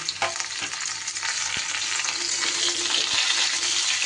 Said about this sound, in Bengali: এইবার আমি কুমড়ো আর ঝিঙেটা দিয়ে দিলাম।